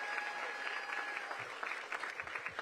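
Steady, moderate applause from an audience at a ribbon-cutting for a regional medical center continues throughout, with dense overlapping claps at a slight distance.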